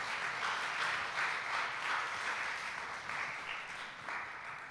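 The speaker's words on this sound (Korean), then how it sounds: "하나님께 영광의 박수를 드리겠습니다." Applause fills a church worship service: a loud, steady wash of many hands clapping throughout, with slight rhythmic swells and no talk over it.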